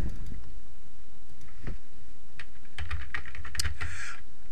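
Computer keyboard typing while signing in to chess ratings software: a sparse run of quick, close key clicks with short pauses, quiet and alone without talk.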